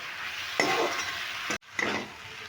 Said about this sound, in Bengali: সমস্ত মশলাগুলো দিয়ে বেশ সুন্দরভাবে মশলাটা আলুর সঙ্গে নিয়ে কষিয়ে বেশ কষিয়ে নেবো ভালো করে